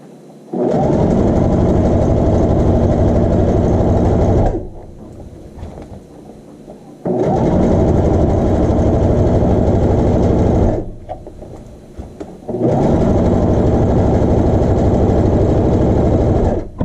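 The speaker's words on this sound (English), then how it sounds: "You're sewing on the inside of the leg opening." A loud, close sewing machine hums through three long continuous runs, hemming the inside of a child's shorts leg opening, with brief quiet gaps between them.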